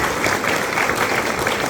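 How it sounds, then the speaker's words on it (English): Audience applause at a youth symphonia chamber music concert, a steady wash of clapping throughout with no gaps, moderately loud and filling the room. "So give her another round of applause."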